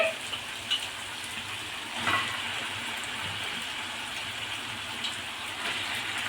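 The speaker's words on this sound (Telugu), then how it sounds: "ఇప్పుడు మనం ఈ చికెన్ని ఇందులో వేసేసుకుందామండి" Chicken tipped into a pan of fried ginger paste for a spinach mango chicken curry, giving a steady, close, rain-like sizzle that carries on evenly with a few small bumps and no talking.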